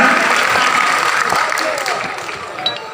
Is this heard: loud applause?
yes